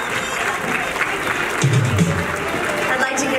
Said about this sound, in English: Please join in a round of applause for our fabulous Bridal Expo Chicago